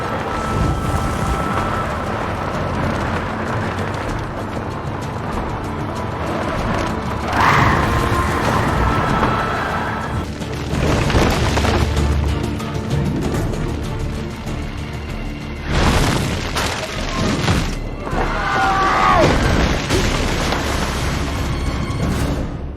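Explosions in Assassin's Creed 2 video game: a series of heavy booms and rumbling blasts recurs across the stretch over a busy game soundscape, loud and close, with little talk.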